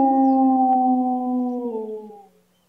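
A person imitates a wolf howl, one long sustained wavering note that slides gently downward and fades out.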